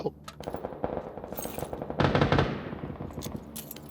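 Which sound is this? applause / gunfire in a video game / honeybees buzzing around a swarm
gunfire in a video game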